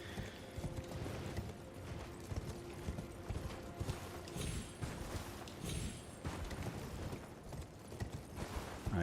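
Horse hooves in Elden Ring clopping in a steady, quick rhythm throughout, fairly faint and continuous, with light mechanical clatter mixed in.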